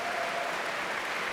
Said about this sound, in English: you're just clapping for yourselves